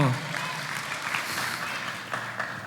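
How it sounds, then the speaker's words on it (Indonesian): A church congregation breaks into sustained applause, a dense wash of clapping that carries on steadily for a few seconds. "Tepuk tangan dong buat Tuhan."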